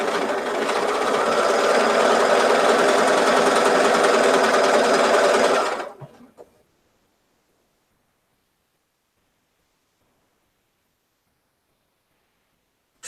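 A sewing machine chain-pieces batik quilt blocks with a steady, close, loud mechanical whirr. It runs continuously for about six seconds, then stops dead, leaving near silence.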